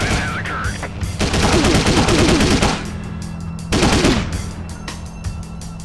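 Rapid automatic bursts from a submachine gun in the Driver 3 video game, two long loud rattling volleys separated by a pause, with isolated single shots trailing afterward.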